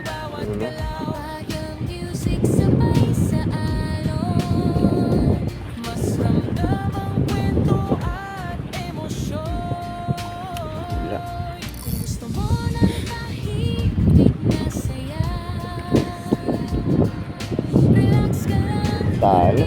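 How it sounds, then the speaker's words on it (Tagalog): Strong gusts batter the microphone during outdoor lure fishing, a loud, continuous low rumble that swells and dips throughout, with some faint tonal sounds mixed in. "Lakas ng hangin mga lods."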